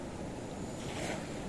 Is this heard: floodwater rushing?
yes